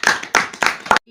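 A few sharp hand claps from a small group, four distinct bursts spaced about a third of a second apart, praising a student in a Bible and adult education class.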